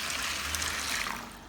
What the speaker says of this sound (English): Add enough water to fully cover the black beans